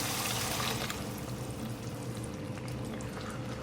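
Blended tomato being poured into fried masala for dhaba-style daal mash, heard as a close pouring splash and sizzle that is loud at first and then settles into a softer hiss and bubbling.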